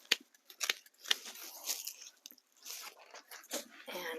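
Garden shears snip through dahlia stems (the variety 'Gideon', a red dahlia) while digging tubers in zone 6, giving a handful of sharp, close cuts with rustling foliage between them.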